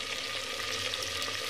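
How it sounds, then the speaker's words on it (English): Fish frying in hot oil in a mud pot with a steady, dense sizzle and crackle that fills the whole moment, close and continuous. "So let it fry. It's frying deeply."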